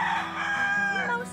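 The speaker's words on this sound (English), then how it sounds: "mostly injured birds." Rescued chickens, mostly injured birds kept at a tent city camp, with a rooster crowing in a long drawn-out call close by, clucking hens and a faint voice underneath.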